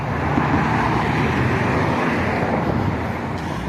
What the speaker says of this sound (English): But we're gonna wait until we get past all this traffic